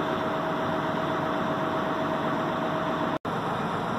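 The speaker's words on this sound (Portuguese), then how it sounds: "Motor MAN. Você vê, já é um motor já com tecnologia" A MAN Euro 5 diesel engine in a Constellation Advantech 15.190 truck idles steadily, a constant low rumble with broadband hiss, briefly cut by a momentary dropout near the end.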